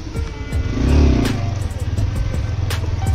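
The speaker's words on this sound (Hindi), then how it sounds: "रुको रुको आ रहा है बाइक लेके" A motorbike rides up close by, its engine revving and putt-putting loudly, the rumble rising as it arrives and then idling with clattery pulses.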